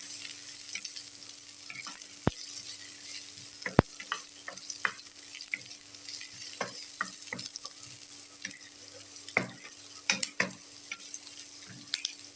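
Onion and tomato sautéing in a pan for a Tamil lentil kara kuzhambu, a soft steady sizzle broken by scattered clicks and scrapes of a stirring spoon, close by and moderately quiet, with no talking.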